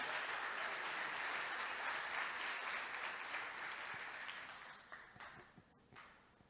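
A church congregation claps loudly and steadily, a dense sustained wash of applause that thins and fades out over the final seconds.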